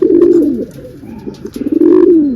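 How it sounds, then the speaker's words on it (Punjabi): A newly paired pigeon couple, a Dabba male and a hen, coos loudly and close up in two long, rolling, throaty phrases separated by a softer pulsing murmur. "ਕੱਚੀਆਂ ਪੀੜੀਆਂ ਦੀ ਕਬੂਤਰੀ ਤੇ ਡੱਬਾ ਕਬੂਤਰ ਜਰਦਾ ਇੱਕ ਜੋੜੀ ਹੈ"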